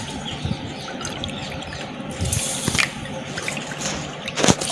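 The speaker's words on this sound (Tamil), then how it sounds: "இந்த 2 கப்பு சர்க்கரைக்கு வந்து 2 கப்பு தண்ணி எடுத்துக்கலாம்." Water is poured onto two cups of sugar for a sweet recipe, a steady trickling pour close by with soft splashing and brief louder sloshes near the end, no talk.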